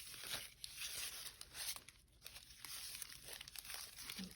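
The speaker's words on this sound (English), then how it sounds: "it's real easy for it to tear in the strips" Washi tape crinkles and tears into strips close by, quiet rustling and ripping sounds in short uneven bursts with no speech.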